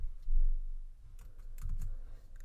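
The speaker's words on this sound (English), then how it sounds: "let's go to our text editor and type in, let's say, score equals 50." Typing code on a computer keyboard into a text editor: a short, close burst of key clicks, sparse taps at first, then a quick cluster of presses, with no talking.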